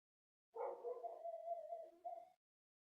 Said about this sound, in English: That was a neighbour's dog.